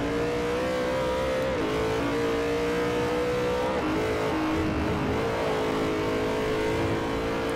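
Car in the Forza Motorsport 4 racing game during a GT2 professional multi-class event, its engine droning steadily with pitch dips and rises as it slides, loud and continuous with faint tire squeal and no talk.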